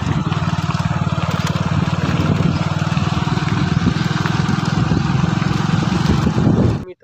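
Motorcycle engine on a ride to a Mahadev temple, a steady close drone held for about seven seconds before cutting off abruptly at the end.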